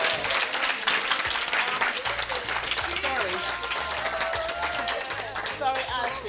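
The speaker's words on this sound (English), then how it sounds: "Put your hands together, keep the applause going for her." Sustained applause from an audience at an agricultural award ceremony honoring Mrs. Barbara Smith, dense clapping heard at moderate distance with a voice talking over part of it.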